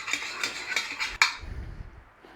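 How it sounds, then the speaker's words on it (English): A utensil stirs sea salt in a bowl until it dissolves, making a quick run of regular light clinks and scrapes against the bowl, then one sharper knock before it fades to quiet. "So I'll just give it a stir around till it dissolves"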